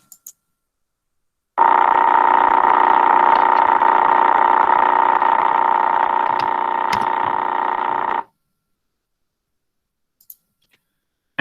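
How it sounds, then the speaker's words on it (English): Sonified radio signal of the Crab pulsar, the young pulsar in the Crab Nebula spinning about 30 times a second, heard as a continuous loud buzzing drone that holds steady for several seconds, then stops abruptly. "So it's the sound of pulsar."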